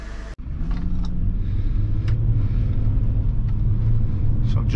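A Nissan Elgrand on a test drive, with a steady low engine and road rumble throughout the cabin, a brief dip near the start, and faint intermittent clicks and ticks over the drone.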